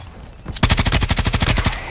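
Rapid automatic gunfire in a video game bursts in after a short quiet lead-in and keeps rattling steadily and loudly to the end, with no voices over it.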